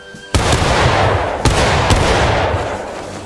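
A rear rank of musketeers fires a volley in a video game: a sharp crack of massed muskets followed by two further loud reports, each trailing into rolling smoke-like rumble, fairly close.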